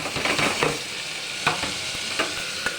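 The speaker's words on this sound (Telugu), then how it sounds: "వేపుకుందాం బాగా వేగాలి" Tomatoes frying in a pan for mutton curry, a dense close sizzle with a quick run of stirring scrapes at the start and a few sharper spatula knocks later, no voices.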